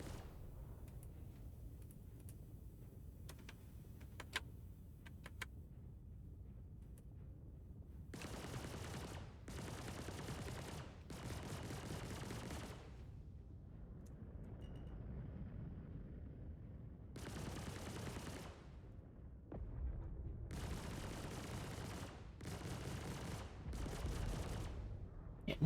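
Turrets in a space video game fire in repeated rapid bursts, each volley lasting a second or two, separated by quieter gaps with a low rumble. The whole sequence stays fairly faint.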